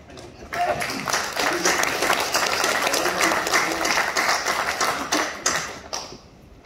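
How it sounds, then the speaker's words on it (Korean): A church congregation claps together during a worship service, a dense, sustained wash of applause that swells quickly and fades near the end, with voices faintly present underneath. "같이 박수로"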